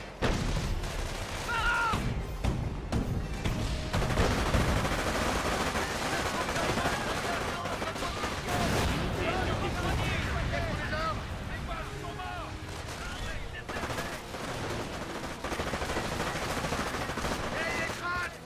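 Dense gunfire and artillery blasts from the WWII strategy game Company of Heroes, set during a parachute assault on Cauquigny, rattle continuously with booming impacts, while shouted voices call out over the battle.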